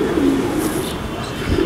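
A long-distance racing pigeon gives a low, throaty coo close by, soft and continuous over a brief moment, with no talking.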